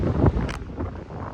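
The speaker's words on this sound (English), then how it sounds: "Yeah, very windy." Strong gusty wind on a shingle beach buffeting the microphone in low rumbling bursts, with a short hiss partway through; no talking.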